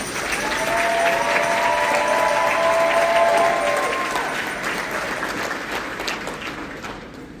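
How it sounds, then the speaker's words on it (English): Sustained audience applause at an awards ceremony, a dense wash of clapping that holds steady for about four seconds and then slowly thins out. A few faint tonal notes sit beneath the clapping. "So let's give her a big round of applause."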